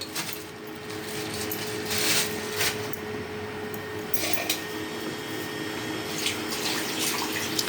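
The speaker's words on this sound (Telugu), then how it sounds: "ఇక మటన్ కడుగుతున్నా" Fresh mutton rinsed under running water from a tap, giving a steady wash of splashing and flowing water with occasional brief clatters, heard close and alone without talk.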